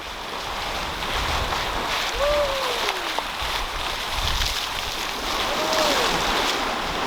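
A sailboat cruising at 7 to 9 knots through open ocean swell: a constant rush of wind and breaking water fills the scene, with faint whistling tones rising and falling above it and no voices.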